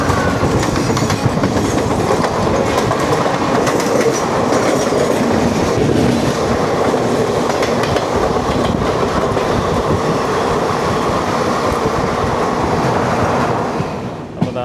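Ernakulam Express hauled by a mid-mounted locomotive rolls past close by, a loud continuous rumble with rhythmic wheel clatter that fades slightly at the end.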